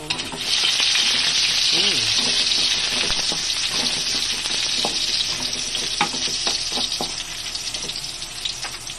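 Garlic sautés in a pan with a loud, bright, continuous sizzle that swells in after a brief quiet start, while intermittent clinks and scrapes of stirring punctuate it up close; no one speaks.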